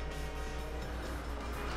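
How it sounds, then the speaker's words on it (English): Train in the video game The Bourne Conspiracy, a steady low rumbling roll that fills the whole moment at moderate level, with no talk over it. "I hear a train."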